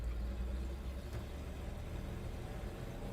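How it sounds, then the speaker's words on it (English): A 1961 Ford F100 pickup's engine and exhaust give a low, steady rumble at moderate level from inside the moving truck, with no talk. "It's got a real cool exhaust system. It's got that old truck sound to it."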